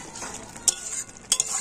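Salted fish being stirred in a pan over low heat to dry it: a soft steady sizzle with two or three sharp scraping clinks of a spatula against the pan, close up, no voices.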